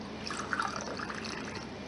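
Deionized water is poured into a lab vessel during a calcium ion-selective electrode preparation, giving a steady close trickle that runs without a break and with no talking.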